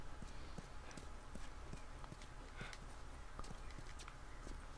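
A horse walks in The Last of Us video game, steady clip-clop hoofbeats at an even pace over a constant wind-like background hiss.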